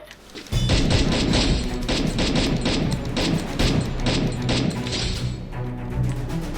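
Dense, continuous gunfire in the mobile battle royale game Free Fire, with rapid overlapping shots and thuds filling the scene at a steady, loud level.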